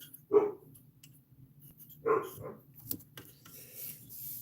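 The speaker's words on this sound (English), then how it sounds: "Barking dogs." Two sharp dog barks spaced a couple of seconds apart, moderately distant, followed by faint clicks and rustling.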